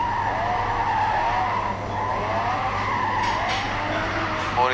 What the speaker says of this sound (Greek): το συγκεκριμένο αυτοκίνητο κινείται σε εκρηκτικούς ρυθμούς εδώ στο καρτόδρομο